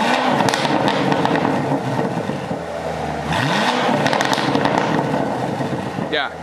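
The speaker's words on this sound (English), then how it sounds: "Yeah, definitely louder on the rev." A Corvette engine revs with a loud, modified exhaust, rising and falling in a couple of strong revs over steady rumble; loud and close throughout.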